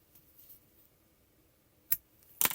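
Scissors snip through a long tail of yarn on a crocheted granny square, with a faint early snip, then a sharp close cut and a final louder clipping crunch, all without speech.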